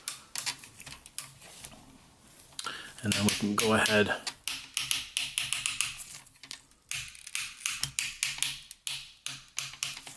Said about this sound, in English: Even got different clicking points on his shell wings.